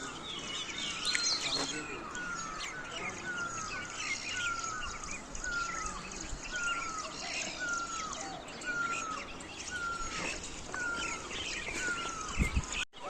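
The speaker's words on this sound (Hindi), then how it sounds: "सुबह सुबह यहाँ परिंदों की आवाज़ें, मोर के बोलने की आवाज़ें, चहचहाहट सुनाई देती है" Birds chirping outdoors at a shrine in Kashmir in the morning, with a steady series of repeated, falling peacock calls every second or so over a continuous chorus of faint chirps.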